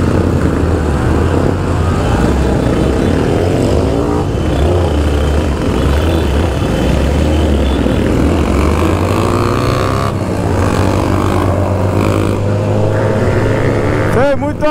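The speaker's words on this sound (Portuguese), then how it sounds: "Rapaziada, olha o tanto de moto" Many motorcycles, including a BMW S1000RR, rumble and rev in a packed street gathering, loud continuous engine drone with passing surges, while people talk over the noise.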